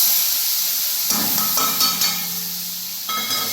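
Onion and tomato sautéing in hot oil with mustard seeds, cumin and asafoetida, a steady sizzling hiss with a few light stirring knocks, no speech.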